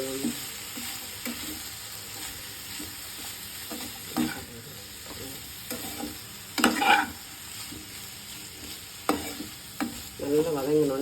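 Ivy gourd (kovakkai) frying in a pan with asafoetida powder for a South Indian varuval, a steady soft sizzle broken by irregular scrapes and clinks of a stirring spoon, heard close and fairly quiet.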